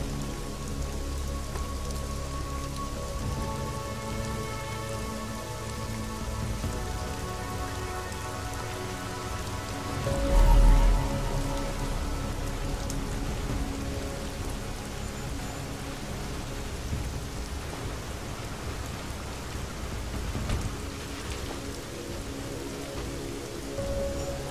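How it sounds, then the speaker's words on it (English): Steady rain falls across a Deus Ex Mankind Divided game scene, a continuous even hiss of drops on surfaces with a low rumbling bed, loud throughout with a brief louder swell midway and no talking. "Typical. Raining."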